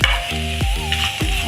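Beef fry with curry leaves and coconut pieces sizzles loudly and close in a pan, a dense crackling hiss with a faint tonal hum in the background.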